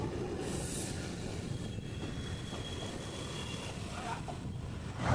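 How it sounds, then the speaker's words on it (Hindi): Passenger train pulling out of Firozpur City railway station in Punjab after a two-minute halt, a steady continuous rumble of wheels and carriages with faint squeal, heard from on board. "दो मिनट के होल्ड के बाद अब हमारी train Firozpur city railway station से निकल चुकी है"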